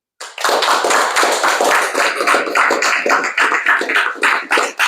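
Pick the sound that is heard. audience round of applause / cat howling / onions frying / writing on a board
audience round of applause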